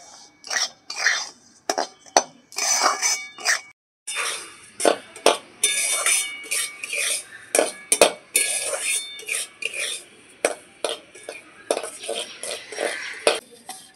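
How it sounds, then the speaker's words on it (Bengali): Semolina frying in ghee in a pan is stirred with a utensil, giving rapid, irregular scraping and metallic clinks against the pan, close and fairly loud throughout. "সুজিটা খুব ভালো করে ঘিয়ের মধ্যে আমি ভেজে নেব।"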